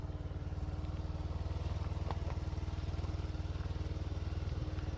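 A motorcycle ridden as the rear of two bikes, its engine thrumming in a steady, fast pulsing rhythm, loud and close throughout with no talk.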